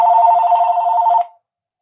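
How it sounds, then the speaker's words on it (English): Phone ringing with an incoming call: a single electronic ring tone holds steady and loud for just over a second, then cuts off into silence. "That is a phone call here."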